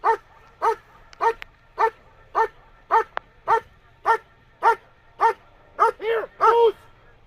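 Dog barking while guarding a helper during an IGP protection trial at a regional competition, a run of about a dozen loud, evenly spaced barks close by, speeding up near the end.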